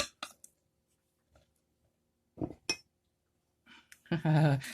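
A metal spoon clinks against a bowl of corn muffin batter in sparse, sharp taps separated by silence, followed at the end by a person speaking.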